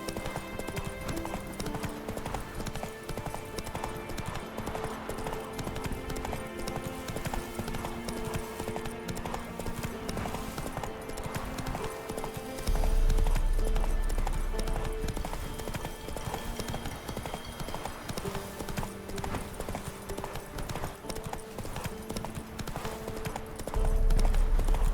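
Hooves of Roach, a horse in the video game The Witcher 3, clip-clop in a fast steady gallop under a constant game background, with deep low thumps appearing at times.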